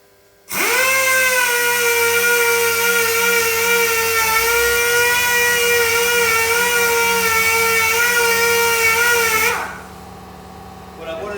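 A handheld power sander works over a car body surface during preparation before body filler. It starts abruptly and holds a steady, loud, high-pitched whine for about nine seconds, then cuts off into quiet background.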